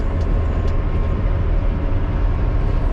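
Motor grader driving along the crown of a gravel road while blading it, a steady loud low engine and rumbling drive noise with gravel rattle throughout, no voices.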